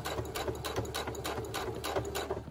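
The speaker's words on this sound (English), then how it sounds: "When I get to a corner, I'll keep my needle down, lift up my presser foot, lower it, pivot, and continue on." A sewing machine stitches fabric for a dog dress, running with a fast, steady mechanical clatter close by and no voices over it.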